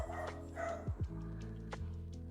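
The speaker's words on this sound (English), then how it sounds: "My pup likes to pick fights with anyone that walks by." A small dog barks at people walking past, a few sharp yips and bow-wows in quick bursts over a steady low room hum, close to the mic.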